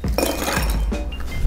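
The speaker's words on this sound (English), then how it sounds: "We're gonna grab a scoop of ice." Ice is scooped into a cocktail glass while making a Caesar, giving close, loud clinks and rattling as cubes tumble against the glass in a quick jumble.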